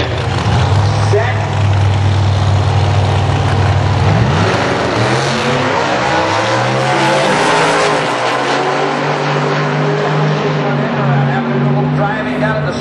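Drag racing cars roar down the strip, a loud sustained engine drone rising and shifting in pitch as they pass, with announcer talk over the racket.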